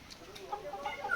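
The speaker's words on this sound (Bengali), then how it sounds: "এ খেতে চায় না এই মুরগিগুলো, মোরগগুলো খাচ্ছে মুরগিগুলো" Chickens and roosters cluck softly and intermittently at a feeding spot, a low, steady murmur of short calls under faint background noise.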